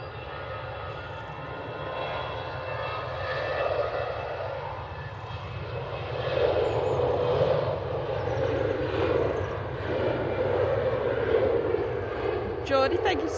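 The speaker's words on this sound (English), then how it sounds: "This is an EasyJet A320." An EasyJet Airbus A320 takes off from Manchester Airport bound for Turin, its jet engines producing a sustained roar that grows louder about halfway through and holds, with a person talking over the noise.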